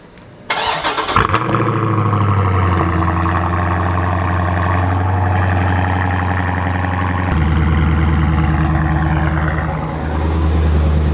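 A 2018 Mustang GT's engine cold-starts with a loud crank and catch, then settles into a deep, steady, rumbling high idle that shifts slightly in pitch partway through and continues alone.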